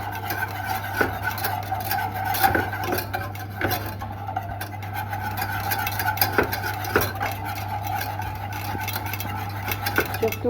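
A metal whisk works flour into melted butter in a pan for a béchamel sauce for cauliflower gratin, making steady scraping strokes with repeated metallic clinks over a constant low hum.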